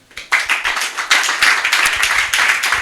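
A church congregation claps together in a fast, even rhythm at a worship service, loud and close, with no voices over it.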